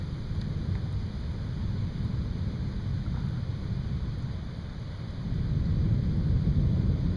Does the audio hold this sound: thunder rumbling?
yes